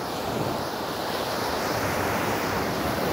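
Continuous roar of sea waves breaking and washing ashore, broad and steady, with wind noise mixed in and no voices.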